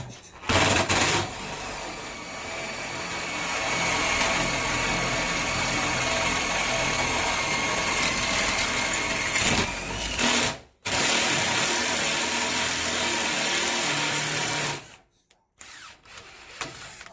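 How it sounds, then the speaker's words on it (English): DeWalt impact gun driving fasteners into a small trailer: a loud, close, continuous rattling hammer lasting about ten seconds, a brief pause, a short second burst, then quiet. "So I've got my trusty DeWalt impact gun, and I'm gonna plunge these in and impact."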